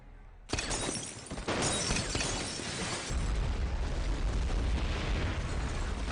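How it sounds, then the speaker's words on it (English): Grenade blast and building collapse in the James Bond film Spectre: a sudden loud explosion followed by sustained crashing, rumbling debris and a second heavy boom, dense and continuous throughout. "A grenade. The whole building collapse."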